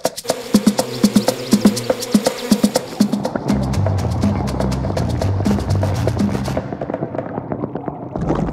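Insect-like buzzing from bees in the Novoe Prostokvashino cartoon, starting with a rapid train of clicks and pulses, then settling into a dense, continuous drone that fades toward the end, with no voices.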